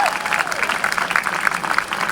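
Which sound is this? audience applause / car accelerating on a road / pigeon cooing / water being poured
audience applause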